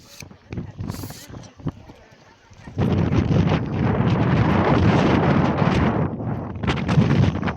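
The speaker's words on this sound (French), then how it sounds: "Oh le vent." Strong coastal wind at Étretat buffets the microphone in a loud, roaring rush that rises sharply after a quieter start and keeps blowing steadily.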